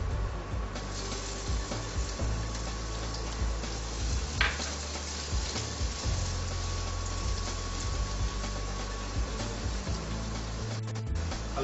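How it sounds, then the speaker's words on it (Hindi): Garlic and finely chopped onion fry in a pan with a steady, continuous low sizzle and crackle that holds evenly throughout, with no talking. "हल्का भुनने दें इसको"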